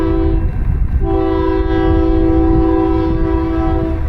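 A train passing close by in Corsicana, Texas, its loud sustained horn blaring steadily over the rumble of the cars throughout.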